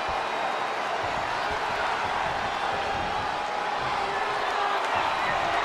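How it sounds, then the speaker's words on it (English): A dense, roaring arena crowd in the video game WWE 2K20 fills the whole stretch with sustained cheering and whoops, loud and constant. "you can't hear yourself think because the crowd's so loud"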